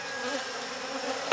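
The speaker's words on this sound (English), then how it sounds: "There's my truck being attacked by millions of bees." A dense, continuous buzzing of many robber honeybees swarming a truck hums close by, a steady droning swarm with one brief louder flick near the end.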